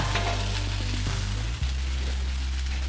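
Carne asada sizzling loudly on a Blackstone griddle, a dense steady crackle and hiss that continues throughout with a brief dip midway, no talking.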